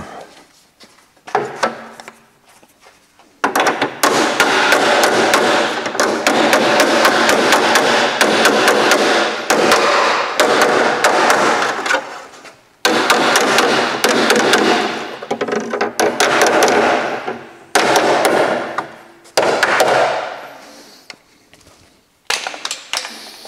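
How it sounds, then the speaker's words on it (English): A hammer taps down high spots on a rusty car front apron, long bursts of rapid close metallic blows separated by short pauses, loud and without voices. "There's a few high spots that just need tapping down."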